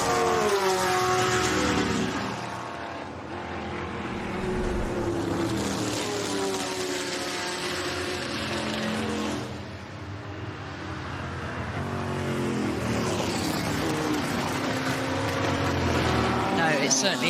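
Historic racing cars at the Goodwood Revival roar out of Woodcote and through the chicane, a loud sustained engine drone that swells and dips as cars pass, under continuous commentary.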